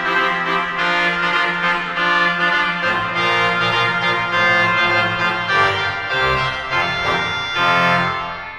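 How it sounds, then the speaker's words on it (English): A very loud trompette en chamade stop on the chancel pipe organ of National City Christian Church in Washington DC blares bright, brassy sustained chords close overhead, filling the room with a continuous ringing tone and no talk. "We've got the trompette and chamade, which is directly above us, which is very loud"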